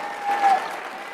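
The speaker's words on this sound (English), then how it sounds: "it's all the women cheering" Women in a crowd at a political convention cheer and applaud, a steady wash of clapping with a swell of cheering voices in the middle, close and fairly loud.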